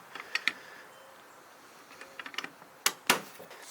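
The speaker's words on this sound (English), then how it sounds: "we're going to be putting the gearbox shell back together" An airsoft MP5 gearbox shell is fitted back together: scattered small plastic and metal clicks and taps, quiet and close, ending with two sharper snaps as the halves seat.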